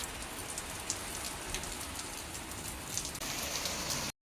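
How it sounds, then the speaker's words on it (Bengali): Heavy rain pours steadily onto surfaces outdoors during a summer storm, a dense, even hiss of drops that stays loud throughout with a slight shift partway; no clear thunder stands out. "মেঘটাও ডাকছে, আবার বৃষ্টিও খুব জোরে হচ্ছে"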